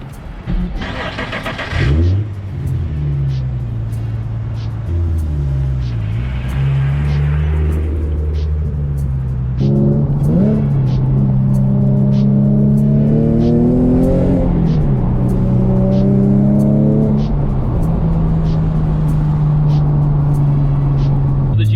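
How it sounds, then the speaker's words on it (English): An Infiniti G37 on KW3 coilovers driving back roads, engine revving up and down through gears with rising and falling pitch, loud and close from inside the car. "we're gonna go ahead and take this car to the back roads"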